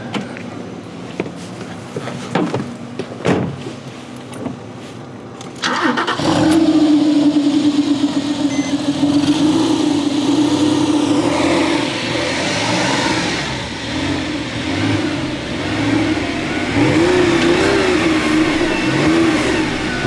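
A Porsche 997 with a valve-controlled Dansk exhaust starts up loudly after some faint handling noises, settles into a steady idle, then revs up and down in several rising swells, close and dominant.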